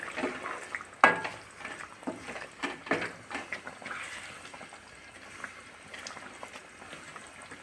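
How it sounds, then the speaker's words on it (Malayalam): A spoon stirs mackerel curry soured with irumpanpuli (bilimbi) in a pan. Quiet scrapes and knocks come over soft bubbling and simmering liquid, busiest early on and then settling to a gentle burble. "ഇനി നമുക്ക് ഇളക്കി വെച്ച് കൊടുക്കാം"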